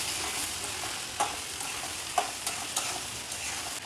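Beef spleen fries in a pan as it is stirred, with a continuous soft sizzle and a few sharper scrapes and clicks from the spoon. No voices are heard.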